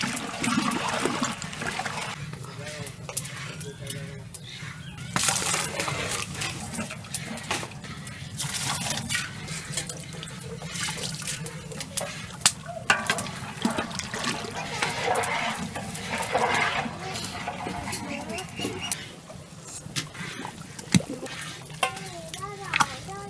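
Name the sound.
milk being heated for payesh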